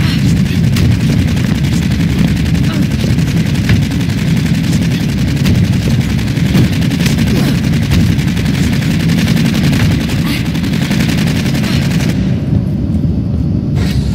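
Sustained gunfire from the video game Aliens: Colonial Marines, a dense, loud barrage of shots and booms that runs continuously for most of the stretch before cutting off abruptly near the end.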